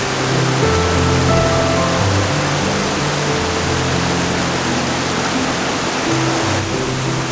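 Janet's Foss, a waterfall in North Yorkshire, roars as a loud, unbroken rush of falling water, with faint steady tones beneath the spray.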